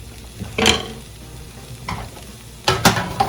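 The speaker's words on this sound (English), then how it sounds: "our barbecue sauce is actually just about done. I hear it popping all up" Thick barbecue sauce bubbles and pops in a pan, a few sharp pops breaking through a low simmering hiss.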